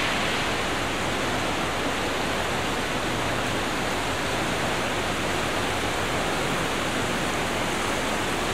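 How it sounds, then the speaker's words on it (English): Rushing water of Tallulah Creek swollen after rain in Graham County, a steady, dense broadband roar that continues unchanged throughout with no talk. "We've got Tallulah Creek."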